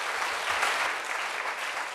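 Congregation applauding during a Korean church sermon, a steady wash of many hands clapping at moderate level for the full two seconds, with no voices over it.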